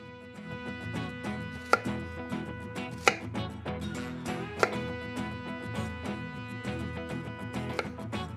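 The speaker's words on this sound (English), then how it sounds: "Cube the onions and peppers into uniform pieces." A knife cubes onions and peppers on a cutting board for pineapple-glazed kabobs, giving a steady run of close, crisp chops with a few sharper, louder strikes mixed in.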